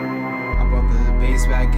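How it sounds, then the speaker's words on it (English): Bell tones in a hip-hop beat, a bright melodic layer that sharpens as a heavy low bass hit drops in halfway, continuing loud and dense over steady chords. "Playing with the bells."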